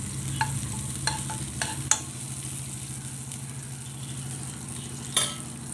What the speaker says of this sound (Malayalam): നെയ്യ് ചൂടായി വരുമ്പോൾ അതിലൊരു 5-6 അല്ലി വെളുത്തുള്ളി അരിഞ്ഞത് ഇട്ട് കൊടുക്കാം